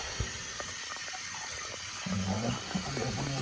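Water runs into a toilet tank refilling after a Korky Platinum complete repair kit was installed, a steady faint trickle that swells into a fuller gush partway through, alone in a quiet bathroom.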